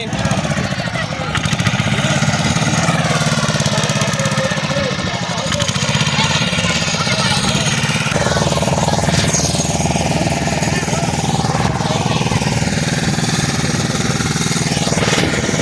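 A motorboat engine drones steadily and loudly throughout, a rough continuous rumble with people talking over it at times.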